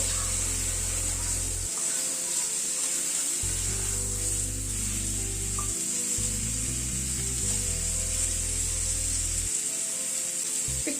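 Chopped vegetables, seasoned with salt and turmeric, fry in a pan for a bottle gourd greens curry. A steady, soft sizzle runs throughout, with a low humming drone underneath.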